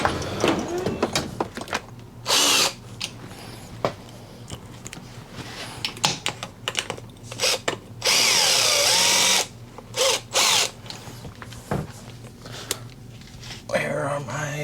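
A power drill drives a bolt on an Evo Sporty chopper motorcycle in several loud, short whirring bursts, with someone talking and tools clattering between them.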